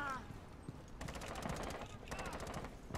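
Rapid automatic gunfire bursts in Rainbow Six Siege, sharp repeated shots in two long rattling volleys from close by, with voices talking over the action.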